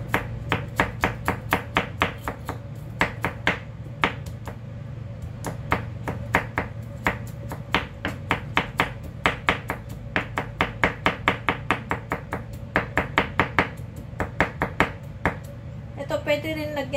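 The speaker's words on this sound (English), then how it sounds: "Kailangan i-mince ito." A knife rapidly minces food on a cutting board, crisp rhythmic taps in quick bursts with short pauses, steady and close, over a low background hum.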